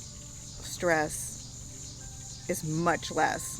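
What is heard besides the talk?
crickets chirping outdoors in the country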